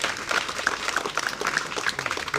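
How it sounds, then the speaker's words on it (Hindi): An audience at a school prize distribution applauds with steady, fairly distant clapping that runs continuously without a break. "आप लोग ज़ोरदार ताली से स्वागत कीजिए"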